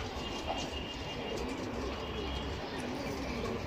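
Pigeons in a flock kept for sale coo close by in a steady, overlapping murmur. Occasional brief chirps sound under the cooing.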